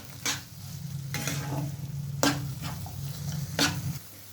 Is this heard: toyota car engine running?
no